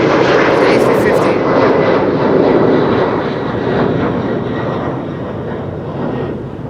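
Airbus A350 jet airliner at Amsterdam Schiphol, its engines roaring loud and steady as the aircraft passes close, the broad rumble easing slightly toward the end, with people talking over it.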